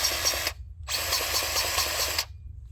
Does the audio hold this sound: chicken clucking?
no